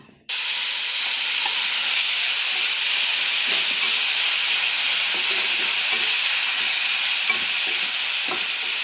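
Spices tempering in hot oil for a citron pickle, a loud continuous sizzle and hiss that starts abruptly and holds steady, with faint stirring clinks underneath and no talking.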